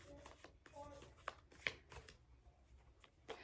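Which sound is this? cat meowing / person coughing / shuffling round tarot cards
shuffling round tarot cards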